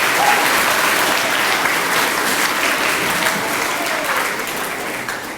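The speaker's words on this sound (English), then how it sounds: "Let's give our judges a round of applause." Sustained applause from a crowd, a steady wash of clapping that carries on throughout and tapers slightly at the end.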